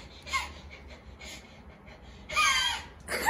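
Someone imitates the gasping dog from the anime film Howl's Moving Castle with a few short, breathy gasps, then a louder, strained wheezing burst near the end.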